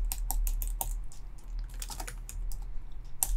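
Fast, uneven keystrokes on a computer keyboard while entering C++ code, clicking close to the microphone with short pauses between bursts.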